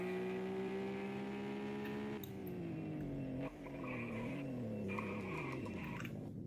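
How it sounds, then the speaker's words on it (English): An Aston Martin Vantage on a race track brakes hard from high speed, its engine tone winding down while the tires lock and squeal in a drawn-out scrub, clear and close with no talking. "I'm gonna go about 130 or something, and then I'm gonna just full emergency brake"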